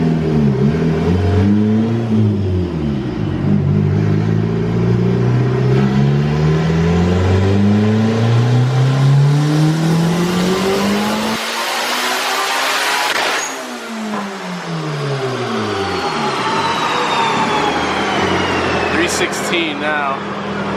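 A turbocharged Honda Integra engine revs hard on a dyno, climbing through rising harmonic sweeps, dropping off, then winding up again near and loud, with a sharp high whistle and blow-off near the end.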